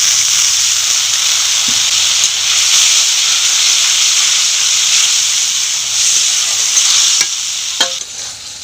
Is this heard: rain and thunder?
no